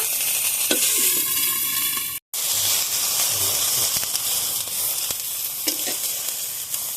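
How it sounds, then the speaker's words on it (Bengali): Tomatoes fry in hot oil in a pan with a steady, close sizzle and hiss, broken by a brief silent gap and occasional stirring scrapes. "টমেটোগুলো ভালোভাবে ভেজে নিয়েছি"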